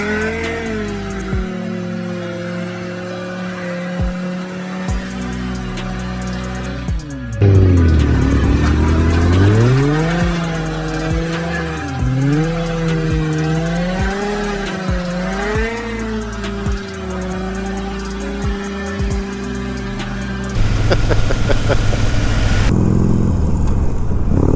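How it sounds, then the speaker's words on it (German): A motorcycle does a burnout on a worn rear tire that is due for replacement: a sustained, loud engine roar with rising and falling revs and a squealing, spinning tire, continuous and close throughout. "vielleicht könnte ich ja gleich ordentlich einen brennen lassen, da jetzt ja eh ein neuer Reifen drauf kommt"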